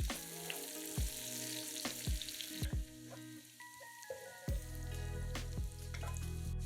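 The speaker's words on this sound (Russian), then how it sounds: "Пассируем лук до золотистости, периодически перемешивая." Onions sauté in a frying pan still holding fat from fried meat, giving a steady close sizzle broken by scraping clicks and clatter as a utensil stirs them now and then.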